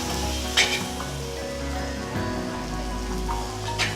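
Chopped onions with 50 grams of chilli fish-curry masala powder and a little salt sizzle softly in a pan for Tamil fish kulambu, a steady crackling hiss with a few sharper pops over a low background hum.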